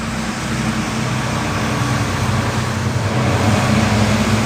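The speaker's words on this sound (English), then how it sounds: "loud trucks." Loud trucks rolling along a road in Woodstock, New York on a December walk, a steady close roar of traffic noise that fills the whole stretch without a break.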